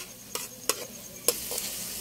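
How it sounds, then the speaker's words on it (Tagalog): Egg is stirred into shrimp heads frying in a pan, with a few sharp scrapes and clinks of the spatula over a soft, steady sizzle. "lalagyan na natin ng itlog at paghaluin lang ito hanggang sa maluto"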